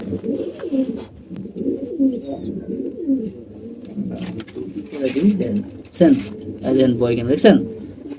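A pigeon coos in low, repeated rolling calls close by, the bursts recurring steadily.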